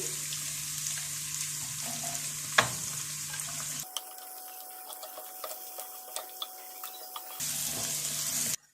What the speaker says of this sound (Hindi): हमने कैरेट्स को 2 मिनट के लिए फ्राई कर लिया